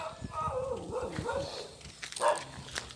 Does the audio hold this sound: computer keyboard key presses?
no